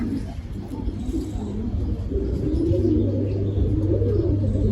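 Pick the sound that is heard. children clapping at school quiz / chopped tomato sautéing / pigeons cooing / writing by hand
pigeons cooing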